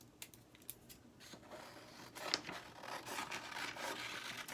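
Scissors snipping through paper while cutting out a paper heart, a run of quiet rasping cuts and slides that gets busier and a little louder toward the end, close and alone.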